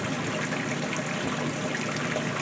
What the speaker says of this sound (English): then it will put in a little bit more water